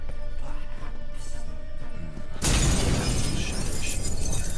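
A mirror smashes in the Witcher 3 game world, a sudden loud burst of breaking glass cutting through the quiet background hum and ringing on as a dense, crackling spray.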